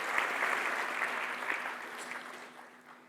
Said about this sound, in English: A round of applause for my young friend there.